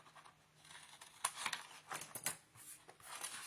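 Scissors snipping paper at an angle while trimming a scrapbook pocket album page, a few crisp close cuts with short pauses between them, quiet and without speech.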